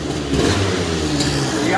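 Suzuki quad engine revving nearby, a loud continuous mid-pitched engine drone with slight rises in pitch, heard under people talking.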